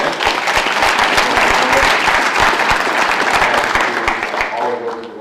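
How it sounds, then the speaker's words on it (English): Audience applause for a Rotary club president at a State of the Schools gathering, with steady, dense clapping from a crowd that carries on for several seconds before thinning out at the end. "let's give another round of applause to our president."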